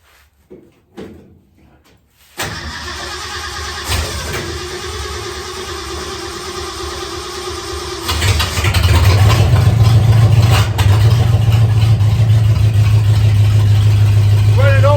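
A 1971 Ford F100 pickup engine cranks briefly on a cold start after a few quiet knocks, then catches and idles roughly and loudly, rising to a deeper, heavier rumble partway through.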